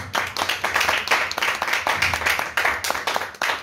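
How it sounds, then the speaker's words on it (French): An audience at a conference applauds steadily, many hands clapping together in a warm, continuous burst that lasts several seconds. "que je vous demande d'applaudir également."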